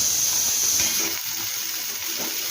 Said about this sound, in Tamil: இது வறுபடும் போதே நம்ம வச்சிருக்க இஞ்சியும் போட்டுக்கலாம்.